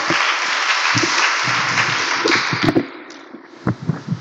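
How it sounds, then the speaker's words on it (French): A church congregation applauds during a combined worship service, a broad roar of clapping that holds steady and then fades, with low thumps and a few stray sounds as it dies away. "On applaudit le Seigneur pour cette victoire éclatante"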